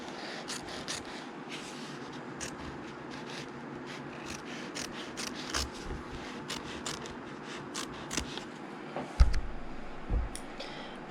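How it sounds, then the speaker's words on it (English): Small hoop scissors snip close along the edge of appliqué fabric, giving a steady series of light, close clicking snips over a soft rubbing background, with a couple of heavier handling knocks near the end. "I'm using my little hoop scissor mini just to get nice and close"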